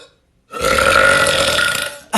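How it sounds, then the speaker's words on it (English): A man lets out one long, loud, drawn-out belch lasting well over a second, starting after a brief silence and cut off by a short burst at the end. "here's just me belching for I don't know how long"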